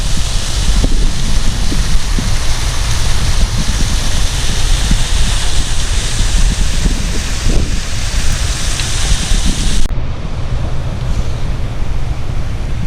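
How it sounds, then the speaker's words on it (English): Waterfall on Kettleness Beach, a constant broadband rush of falling water blended with wind buffeting the microphone, steady and loud throughout, with a brief dip in the high hiss near the end. "There's a beautiful waterfall."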